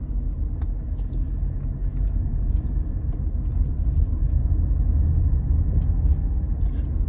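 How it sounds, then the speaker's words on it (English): Steady low rumble of a car cruising on the road, heard from inside the cabin on a drive home, with continuous engine and tyre drone and faint occasional clicks, no talking. "driving home from corona vaccination"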